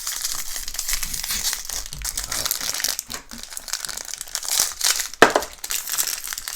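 A plain plastic bag holding board game tokens crinkles and rustles close up in irregular bursts, with one sharper crunch near the end and no speech.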